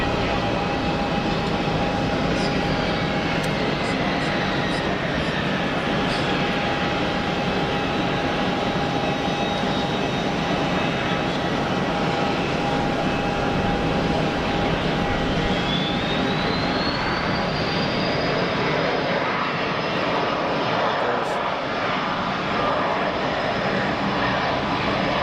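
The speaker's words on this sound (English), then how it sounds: "We've got an EasyJet lining up for departure." An EasyJet jet airliner departs from Geneva Airport with a steady, broadband engine roar, heard from a distance. A high whine rises partway through as the thrust builds, and the noise stays unbroken throughout.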